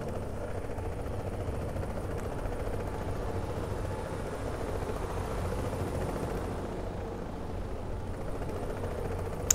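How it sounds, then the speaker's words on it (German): A helicopter flying in low in the video game Tom Clancy's The Division: a faint, steady rotor and engine drone holds throughout, distant and unchanging, with no voices over it. "Da kommt der Heli für hier drüben angeflogen."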